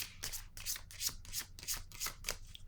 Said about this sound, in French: Je vais piger une carte sur elle.